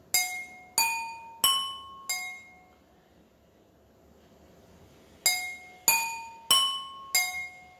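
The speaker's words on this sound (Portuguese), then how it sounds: "Na minha música eu utilizei as 3 taças" Three wine glasses are struck one after another as ringing notes, four strikes, a pause of quiet, then four more, each chiming and fading.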